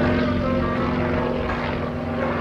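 A Yak aerobatic propeller plane flies with smoke on at the 2009 Dover AFB airshow, its loud, steady propeller drone holding a constant buzzing tone throughout.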